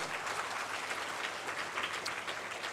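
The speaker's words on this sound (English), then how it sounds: "Once again, give a good clap to all of them." An audience at an International Day of Yoga event claps for the performers, a steady dense wash of applause that holds evenly throughout without speech.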